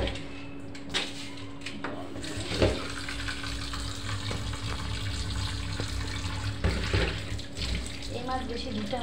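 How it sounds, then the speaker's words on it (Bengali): Tap water runs steadily while a fish is washed under it, with a few knocks and clatters as it is handled, close and fairly quiet throughout. "মাছটা আমি ধুয়ে নেব"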